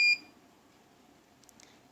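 One short electronic beep from a digital clock as an alarm is set, loud and close at the start, followed by quiet room tone and a few faint clicks.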